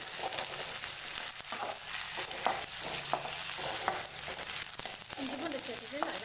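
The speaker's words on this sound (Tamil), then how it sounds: "இஞ்சி பூண்டு பேஸ்ட்டோட பச்சை வாசம் போகிற அளவுக்கு நல்லா வதக்கி விட்டுருக்குங்க." Onions with ginger garlic paste sautéing in a pan for a vegetable kurma, a continuous quiet sizzle broken by intermittent scraping strokes of a spoon, heard without talk.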